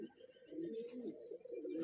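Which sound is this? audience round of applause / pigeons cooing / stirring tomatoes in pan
pigeons cooing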